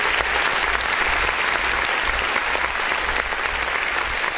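Sustained applause from an audience at a live music review show, steady and dense throughout with no speech over it.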